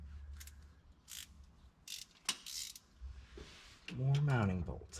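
Mechanical ratcheting and clanking as hand tools work mounting bolts loose on a G3500 engine, a series of short metallic bursts, then a louder sustained creaking squeal near the end.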